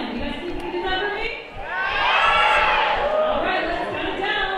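At a K-pop showcase concert, a large crowd screams and cheers in a loud sustained swell, rising after a brief dip, with an amplified voice heard around it.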